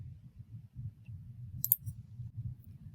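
One brief, sharp mouse click sounds during a kids' coding club lesson on a Kano setup. It is heard alone over a steady low hum.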